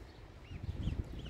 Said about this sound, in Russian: Курочки, гуси, утки.